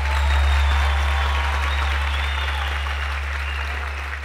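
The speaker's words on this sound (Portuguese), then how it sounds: "mais salve de palmas para Mel Maher" Sustained round of audience clapping at a Brazilian live comedy show, dense and even throughout, with a loud constant low hum from a faulty microphone running underneath.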